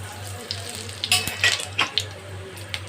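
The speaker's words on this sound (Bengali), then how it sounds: "মাছ ভাজা হয়ে গেছে সেই তেলটাতে আমি একটু দিয়ে দিচ্ছি ফোড়ন এলাচ দারচিনি আর লং আর দুটো শুকনো লঙ্কা আর কয়েকটা গোটা জিরে" Whole cardamom, cinnamon, cloves, two dried red chillies and cumin seeds crackle in leftover fish-frying oil for a Bengali doi katla curry, a steady low sizzle with a few sharp spits and stirring clatters over a constant hum.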